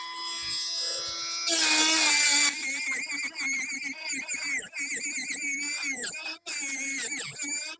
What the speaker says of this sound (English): Let me try to Dremel that off a little bit where it won't interfere with the window